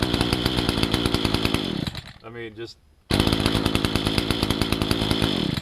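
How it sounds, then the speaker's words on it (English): A Dolmar PS-421 chainsaw runs loudly at a fast idle, cuts out briefly while someone speaks, then roars back to life. "this is gonna be the easiest to start chainsaw ever."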